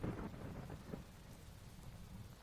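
Soft rain falls steadily with low rumbling thunder in a quiet, close ASMR ambience, with no voices.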